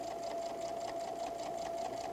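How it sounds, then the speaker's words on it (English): A sewing machine runs steadily, stitching half-inch seams on a quilted tote bag, a close, continuous, fast needle rattle with a constant motor hum throughout. "we're going to sew the bottom itself right across here"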